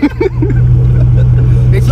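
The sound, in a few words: Dodge truck engine running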